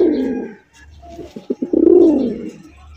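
A pigeon coos close by in a breeder's loft: a low throaty call that swells and fades, a short pause, a few quick pulsing notes, then a longer rising and falling coo.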